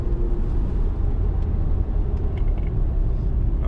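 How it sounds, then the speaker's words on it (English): Inside a car braking from about 50 mph on a test drive, a steady low road and engine rumble fills the cabin, smooth and even with no knocks or shudders. "here we are on our test drive, and I'm doing about 50, and I'm going to go ahead and start braking now"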